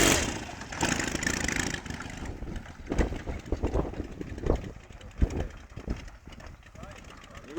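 An ATV engine runs and revs unevenly on a hillside, rising and falling in bursts under close conversational voices in Latvian.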